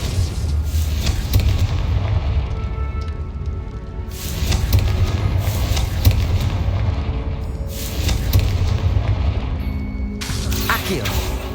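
Confringo blasting spell in Hogwarts Legacy, heavy booming blasts that swell and roll out in several waves, with a voice speaking over them.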